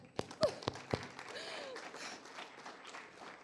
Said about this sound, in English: can we please just have a beautiful, warm round of applause